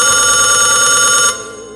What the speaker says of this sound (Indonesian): telepon yang digenggam tangan di bawah tanah itu juga berdering.